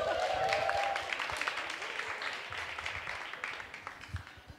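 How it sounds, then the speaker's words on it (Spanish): Applause from an audience at a closing session of a mediation and research program, a dense wash of many hands clapping, strongest at first and tapering; a sustained whistle-like tone rises early on. "¡Aplauso!"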